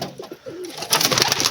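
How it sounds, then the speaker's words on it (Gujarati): Pet pigeons coo softly and close by in a short, low, rolling call, followed by a burst of brighter rustling noise. "આમાં કંઈક આપણે તો બે ચાર કબૂતર રાખ્યા હતા."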